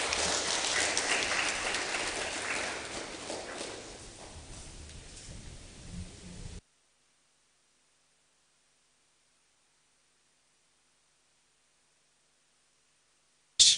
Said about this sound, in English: Let's give him another hand of applause.